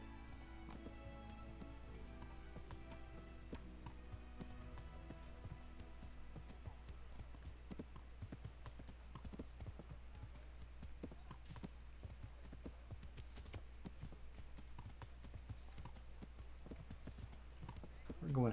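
Horse hooves clip-clop steadily at a walking rhythm in the medieval game Kingdom Come: Deliverance, clear and continuous under someone talking, with game ambience behind.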